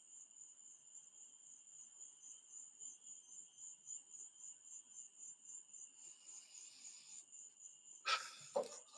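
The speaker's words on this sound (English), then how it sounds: "Listening to crickets can be relaxing." Crickets chirp at night as a steady, high, continuous trill that stays faint and even, with a second insect layer joining midway. Near the end a brief closer rustle or animal noise breaks in.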